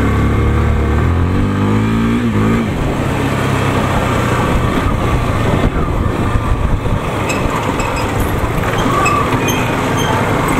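Loud, steady engine drone and wind rush from motorcycles on the ride to Makwanpur Gadhi in Nepal, three bikes carrying six riders, with one engine revving up early on before settling into a continuous roar.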